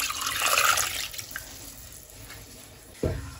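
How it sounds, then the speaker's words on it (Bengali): Water poured into a bowl of gram flour and yogurt batter, a loud splashing gush that fades to soft trickles, followed by a sudden knock near the end. "এবার আমি এর মধ্যে ওয়াটার অ্যাড করব"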